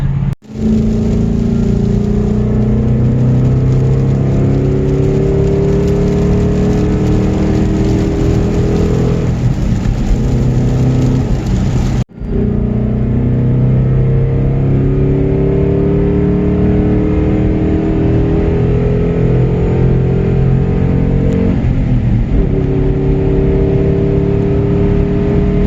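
A race car drives a canyon road, its engine loud and close throughout, rising and falling through gear changes, with a brief cut partway and then more sustained revving, with no voices.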